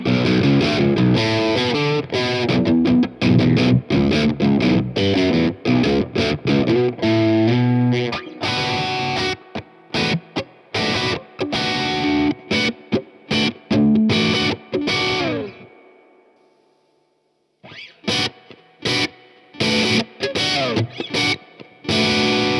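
Heavily overdriven electric guitar through a Crazy Tube Circuits Venus tube overdrive pedal with the drive at maximum, playing chords and riffs, thick and distorted, with choppy stops, a brief silence, then more crunchy strumming.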